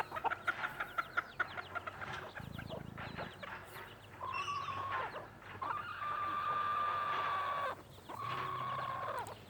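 Silkie chickens clucking in a pen outdoors, with a rapid run of short clucks at the start, then longer, steady, fairly close calls from the flock.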